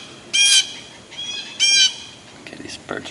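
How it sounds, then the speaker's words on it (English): Loud, harsh bird honks burst out twice close by, followed by fainter scattered squawks. "these birds are so loud."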